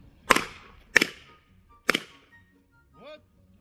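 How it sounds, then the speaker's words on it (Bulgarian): Three sharp firecracker blasts go off one after another in a toilet, each a close, loud crack with a short ringing tail, followed by a brief quiet exclamation. "Защо са толкова слаби тия пиратки, човек?"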